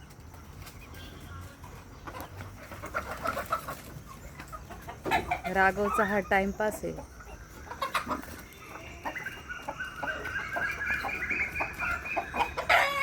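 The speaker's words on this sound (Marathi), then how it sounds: "फायटर कोंबड्या आहेत ह्या. जवळजवळ 80-90 कोंबड्या आहेत." Fighting-breed chickens, a flock of about 80 to 90, clucking and crowing nearby in a lively farmyard, several birds calling over one another, with someone speaking briefly.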